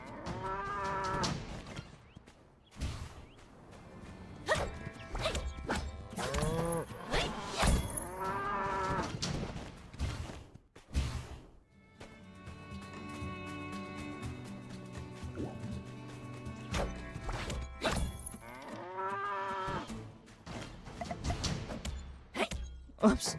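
Cattle in the game My Time at Sandrock give several loud drawn-out moos, spread across the scene amid game sound effects and bits of background music.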